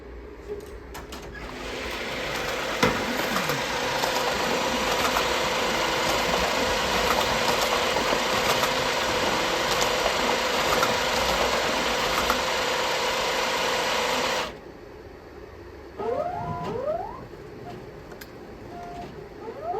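An ATEC cash machine runs a robbery dispense of banknotes, a loud steady mechanical whirr lasting about fourteen seconds that stops abruptly, followed by quieter clicks and brief motor movements.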